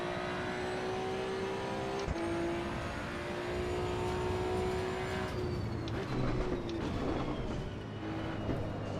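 A Datsun 240Z in Assetto Corsa EVO laps Brands Hatch, its engine note holding a steady high-rev whine, dropping with a gear shift partway through, then climbing and changing again under continuous road noise.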